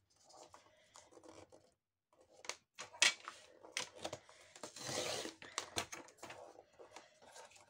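Paper is trimmed flush for a Mother's Day scrapbook craft, a string of close, quiet snips and scratchy cuts with brief pauses between strokes.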